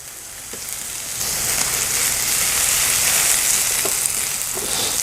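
Onions frying in a teaspoon of butter in a pan for smash burgers, a loud, dense sizzle up close that swells slightly and holds steady throughout, with no talking.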